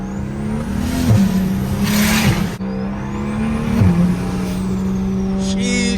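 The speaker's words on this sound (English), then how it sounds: "Love the sound of that turbo, man." A turbocharged car accelerates hard close by, its engine note climbing through repeated revs and gear shifts in a steady, loud roar with no talk over it.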